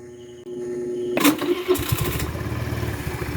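A small Rusi Flex 125i motor scooter engine cranks and catches after a quiet start, then settles into a steady, sputtering idle close by.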